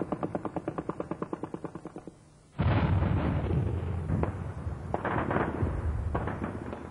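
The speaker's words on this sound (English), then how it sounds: "Last night, a fierce battle, mortar, small arms and machine gun fire." Fierce night battle in Sarajevo: a rapid burst of machine gun fire rattles steadily at first, then heavy mortar blasts and crackling small arms fire erupt in a loud, continuous barrage with sharp distinct shots.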